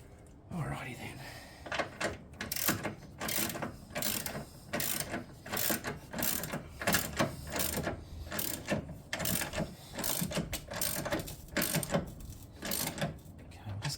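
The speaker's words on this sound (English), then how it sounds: "now I was going to find my other socket just to tighten these bolts back in" A socket ratchet clicks in steady, repeated strokes while tightening engine mount bolts on a 2009 Ford Focus, each pull giving a close, crisp burst of pawl clicks in an even rhythm for the whole stretch.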